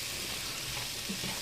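Potatoes and vegetables fry in butter in a skillet, giving a steady, soft sizzle that holds evenly throughout with no talk over it.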